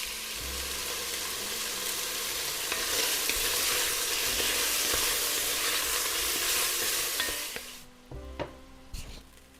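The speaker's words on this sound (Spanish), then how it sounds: "queremos que ese sellado quede bien bonito y que los jugos queden dentro de la carne" Pork searing in a hot pan gives a loud, steady sizzle close by for most of the stretch, then cuts off abruptly, leaving a few faint clinks and a low hum.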